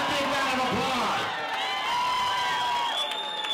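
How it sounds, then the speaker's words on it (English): A concert crowd cheers and whoops with some clapping, loud and lively, shouting voices ringing over a wash of noise. "Give the fans a big round of applause."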